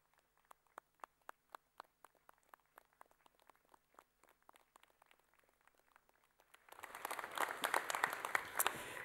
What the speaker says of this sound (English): applaud those on stage, and then turn and applaud your family and friends